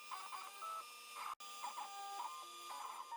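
A CNC machine with an end mill cutting large pockets through wenge into the beech beneath, a steady whining hum with shifting tonal pitches and a brief cut-out partway through, fairly quiet and with no talking.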